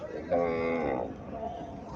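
A small black-and-white Friesian cow gives a single loud, close moo lasting under a second, with the low lowing tailing off into quieter farmyard background.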